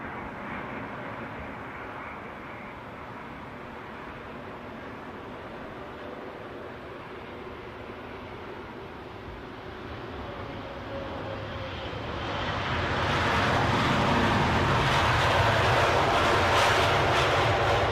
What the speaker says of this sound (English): Next arrival, British Airways, inbound from Las Vegas, a 350-1000.